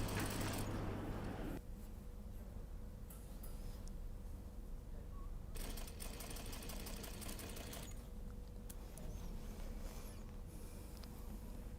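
A sewing machine runs close by while stitching the hem of a semi-coat, giving a fast, even mechanical whir that shifts in intensity a few times across the passage.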